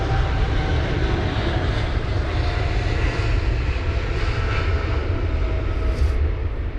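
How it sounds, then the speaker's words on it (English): A Saudi Boeing 777-300 airliner at London Heathrow during a storm gives a loud, steady jet engine roar. The roar holds evenly across the whole stretch under strong low rumble, with no talking. "Saudi with their 777-300 once again with the old livery."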